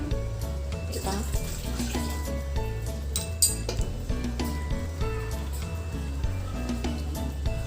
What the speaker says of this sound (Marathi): यातलं आता मी पाणी काढून घेऊ इथे मी एक जाळी घेतलेली आहे